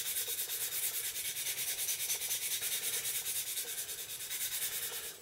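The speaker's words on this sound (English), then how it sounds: "moving straight onto the finer grade of sanding stick" Steady, close rasping of a fine sanding stick rubbed back and forth over a surface, continuous and fairly quiet with no voices.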